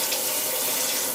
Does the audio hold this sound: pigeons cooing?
no